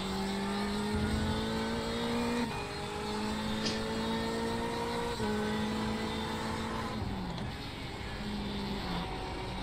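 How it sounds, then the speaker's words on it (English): In the iRacing video game at Spa, a race car engine drones and shifts through gears under a steady roar as a faster class car approaches, with rising and falling revs throughout. "There's a faster class car approaching."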